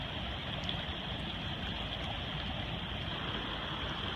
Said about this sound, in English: This is part of the Willamette River.